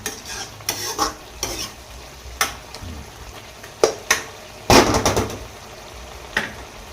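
Spicy wild boar stir-fried in a pan, with repeated scraping stirs and bursts of sizzling frying, close and loud, coming in irregular strokes with short gaps between them.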